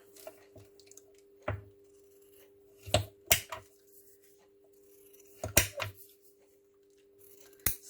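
Scissors snip paper pieces in a few sharp, separate cuts with quiet pauses between them, close and soft against a faint steady hum.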